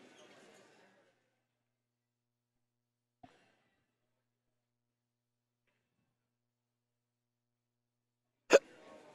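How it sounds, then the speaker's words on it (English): A single small hiccup-like catch in a quiet indoor setting near a women's team game, followed much later by a sharp, loud burst; faint murmuring voices at the start, otherwise near silence. "Got the hiccups."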